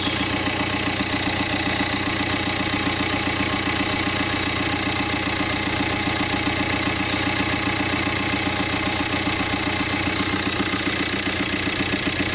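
A common rail diesel engine in an ambulance idles steadily and fairly smoothly, a loud close rhythmic clatter with a constant low drone and no talk over it.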